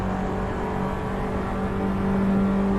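Abarth 500 Esseesse engine running steadily at high revs in the Assetto Corsa racing game, a loud continuous drone with no talk, rising slightly in pitch near the end.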